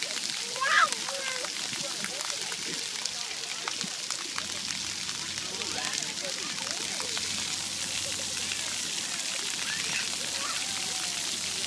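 Water sprays and patters steadily across a children's splash pad, a soft continuous hiss and drizzle with distant children's voices and nearby talk.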